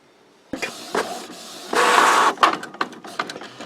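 A Canon Pixma iX6820 wide format printer running with its lid open, starting with sharp mechanical clicks, then a loud whirring carriage pass, followed by a series of clacks and short motor bursts, heard close up.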